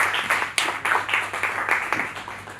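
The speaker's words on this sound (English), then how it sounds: "Please a round of applause for her." Round of applause at a tourism media roundtable: a small audience claps close by, a loud irregular patter with distinct individual claps rising and falling over a couple of seconds.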